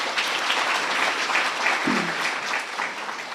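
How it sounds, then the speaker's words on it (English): A crowd at an academic colloquium gives sustained applause for a professor, with dense, continuous clapping at an even level from start to finish and a faint voice briefly audible beneath it. "A very big hand of applause for Professor Mkhize."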